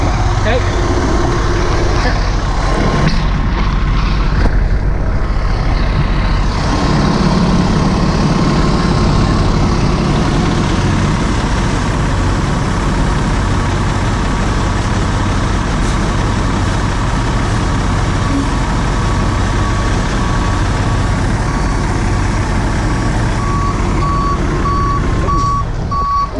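A truck idles with a steady low rumble during an RV recovery on rocks, and a regular reversing beep sounds through it near the end.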